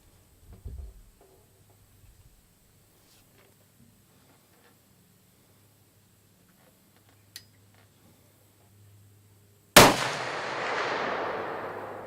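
A rebuilt muzzle-loading rifle fires a single loud, sharp shot outdoors, followed by a long rolling echo, after several seconds of near silence broken by faint handling clicks.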